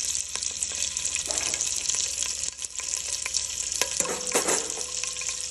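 Cumin and asafoetida tempering sizzle in hot oil while dal is being made, a steady crackling fry with stirring clatter and bursts of spatter, close and fairly loud with no talk.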